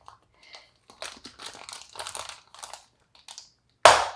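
Plastic ribs being pushed into a large camping wine bag, with soft crinkling and small clicks building to one sharp, loud snap near the end, close to the listener.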